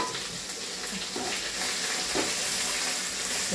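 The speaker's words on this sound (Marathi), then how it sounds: "तेल चांगलं गरम झालेलं असा मसाला चांगला परतून" Masala and mixed vegetables sautéing in hot oil for a Bhogi mixed bhaji, a steady close sizzle with occasional stirring scrapes running throughout, no talking.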